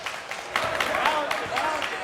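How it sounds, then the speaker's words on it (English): A home basketball crowd in a high school gym cheers and applauds in bursts of clapping and shouts, with an announcer talking over the noise. "Here's the Valley crowd behind us. They're going to be loud."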